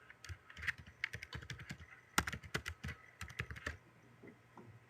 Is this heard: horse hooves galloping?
no